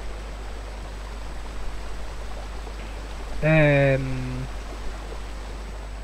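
Flowing water in the video game Uncharted 3, a steady broadband rush throughout, with a brief voice cutting in near the middle.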